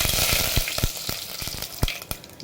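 Loud, close crackling and popping of mustard seeds, cumin and curry leaves spluttering in hot oil, sharp bursts over a dense sizzle.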